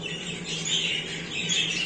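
Budgerigars chirp and chatter continuously in soft, rapid warbles, close by and fairly quiet, with no pauses.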